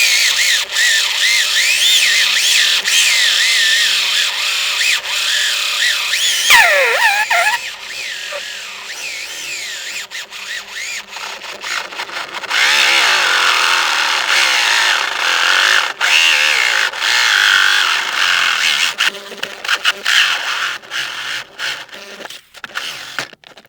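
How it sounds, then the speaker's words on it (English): A power drill bores holes through the metal of a VW T4 van for a Propex HS2000 gas heater, with a loud, steady whine that stops briefly, then resumes and fades in uneven bursts near the end. "so that's all of the holes drilled for the Propex now"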